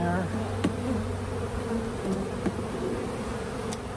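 Honey bees from a recently caught swarm hum and buzz around an opened hive, forming a dense, steady, close drone with a few individual insects passing near.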